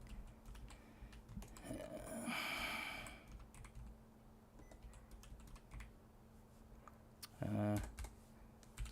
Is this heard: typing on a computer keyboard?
yes